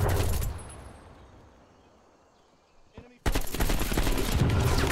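Submachine gun fire in the video game Call of Duty Black Ops Cold War during a Hardpoint match: a loud rapid burst, a quiet lull with a single shot, then another sustained burst of automatic fire.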